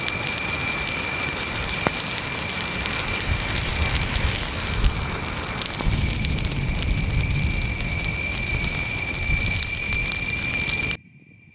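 A large pile of dry wood burns after being ignited by a thermite grenade, giving a dense, steady crackling roar that continues unbroken at close range before cutting off abruptly.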